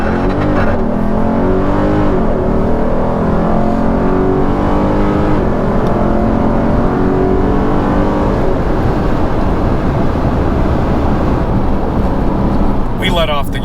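A Dodge Durango SRT 392 launches under launch control, its V8 roaring loud and close as it accelerates hard through rising gears, with a voice talking over the engine.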